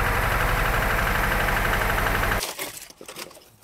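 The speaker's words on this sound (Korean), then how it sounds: "엔진이 소리도 지금 당장 멈춰도 이상하지 않을 만큼 소음이 심각합니다." A faulty BMW 7 Series engine runs loud and rough with a steady low, dense drone for over two seconds, then cuts off abruptly, leaving faint scattered rattles and clicks.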